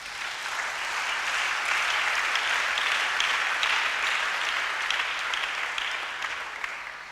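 A church congregation claps together during a Sunday worship service, a dense, sustained round of applause that swells and holds steady for several seconds before easing slightly.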